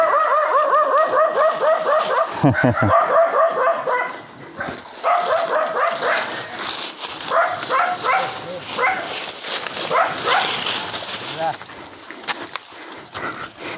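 A dog barks and yips in a quick burst at the start, then voices talk over outdoor background noise for the rest.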